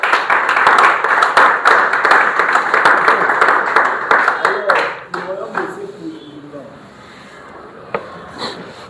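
Congregation at a prayer retreat clapping in a dense, sustained burst of applause with acclaiming voices, loud and close, then tapering off abruptly, leaving scattered claps and murmuring talk.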